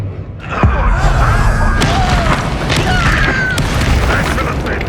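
Booming fire-spell explosions from the Confringo curse in the PS5 game Hogwarts Legacy go off amid hectic combat effects, with a heavy thump early on and a dense, loud rumbling wash throughout.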